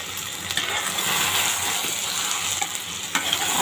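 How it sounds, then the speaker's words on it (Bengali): Beef liver and potatoes sizzle loudly in a pan with a steady, close frying hiss, broken by a few brief scraping knocks as they are stirred. "এটাকে ঢেকে আমি 10 থেকে 15 মিনিট কষিয়ে নেব।"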